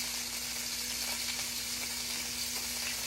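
Onion and squash sizzle as they are stir-fried in a pan, giving off a steady, close-up frying hiss with soft crackles and no speech.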